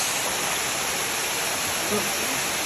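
Miji Falls waterfall heard as a steady, dense broadband roar of rushing water, constant and fairly loud throughout with no pauses.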